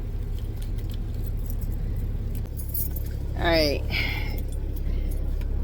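Keys and cards jangle and clink close by as they are pulled out at a TA truck stop in Candler, North Carolina, with a steady vehicle engine rumble underneath and a brief spoken remark.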